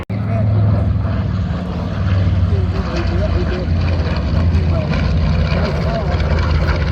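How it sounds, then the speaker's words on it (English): A B-25 (PBJ) twin-engine propeller warplane makes a loud pass at an air show in Tyler, Texas, its deep, steady engine roar filling the whole stretch while an announcer talks over it. "this airplane is a real PBJ"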